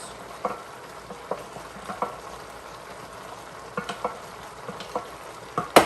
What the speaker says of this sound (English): I'm just stirring this up, just stirring the cheese into the macaroni